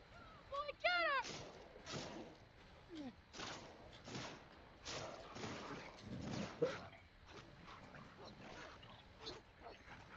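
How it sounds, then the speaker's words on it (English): A dog growls and snarls as it attacks the player in the video game The Last of Us Part 2, a burst of aggressive barking and struggling while someone shouts over it. "Fucking dog, get off me!"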